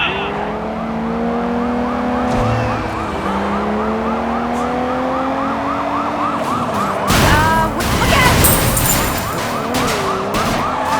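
A police car siren wails in a Sleeping Dogs street scene, its rising and falling tone running continuously beside engine noise, with a burst of louder commotion partway through.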